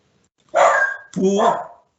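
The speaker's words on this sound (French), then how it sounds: "Ça c'est mon chien." A dog barks twice in quick succession, close and fairly loud, with nothing else around it.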